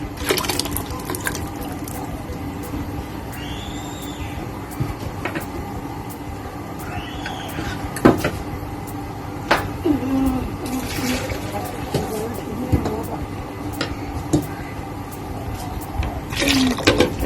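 Water pours into a pot of Thai sour curry with paste of fingerroot and chili, a continuous rushing, gurgling splash lasting many seconds, close and fairly loud with occasional clinks of utensils.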